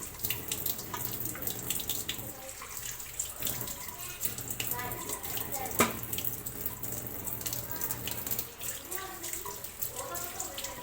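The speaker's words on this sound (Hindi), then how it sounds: "अब हम सारा गोश्त इसी तरह धो लेंगे।" A kitchen tap runs steadily while raw chicken is washed in a sink for frying, a close, continuous splashing hiss with small shifts as the pieces are handled.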